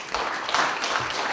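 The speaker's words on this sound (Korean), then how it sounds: "여러분 큰 박수 부탁드립니다." An audience at a Korean community conference ceremony claps briefly, a moderate, somewhat distant ripple of applause with no talk.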